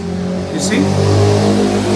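A motorcycle engine passes nearby with a revving mid-range drone that swells toward the end of the moment. A voice briefly talks over it.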